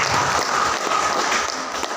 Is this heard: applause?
yes